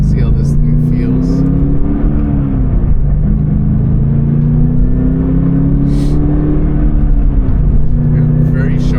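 A track-prepared Subaru BRZ is driven on a race circuit, its engine drone heard steadily from inside the cabin and rising and falling in pitch through the gears while someone talks over it.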